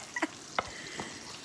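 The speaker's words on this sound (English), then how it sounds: "I got those frying now" Peach pies fry in hot oil, giving a soft steady sizzle with a few brief sharper pops and clicks, close and moderately loud, with no talking.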